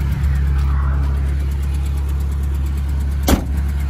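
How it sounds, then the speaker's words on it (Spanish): A 1967 Citroën Tiburón classic car idles with a steady, even low engine hum throughout, recorded nearby, broken by one short sharp knock near the end. "como veis, el sonido del motor es muy muy limpio"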